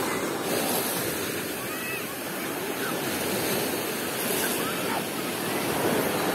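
Waves wash continuously onto a beach of the Sea of Azov at Golubitskaya. Steady broadband surf and wind noise fill the scene, swelling gently in a few places.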